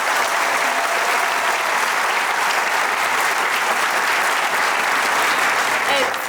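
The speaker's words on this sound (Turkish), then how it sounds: "Bir alkış alalım" Sustained applause from a studio audience at a Turkish children's comedy show, steady and dense for the whole stretch without letting up.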